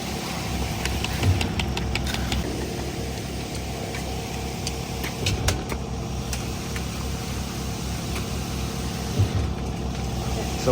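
Diesel engine on a concrete pump running steadily at a construction site during a concrete pour, a low rumbling drone with occasional knocks and clanks over it.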